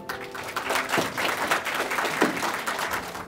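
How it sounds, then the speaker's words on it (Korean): Audience applause welcoming a lecturer to a special lecture on regional balanced development, a steady wash of many hands clapping that fills the whole stretch at moderate loudness with no talk over it. "큰 박수로 강사님을 모시겠습니다."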